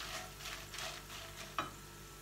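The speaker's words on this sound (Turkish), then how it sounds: "Biraz tavada kavrulmaya devam etsin." Dried peppers roast in a pan, giving a soft crackling sizzle with gentle stirring scrapes and one brief sharper clink near the end, quiet and close, with no talk.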